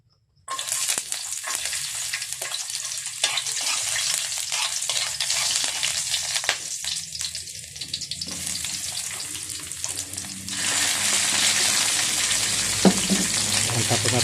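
Garlic, onion, tomato and cabbage sauté in a hot pan, producing a loud, continuous close sizzle that swells louder near the end, with occasional stirring scrapes.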